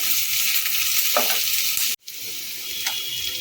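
Onion sizzles steadily in hot oil in a pan while being lightly fried for spinach pulao, a continuous close hiss with a brief dropout midway before the frying resumes.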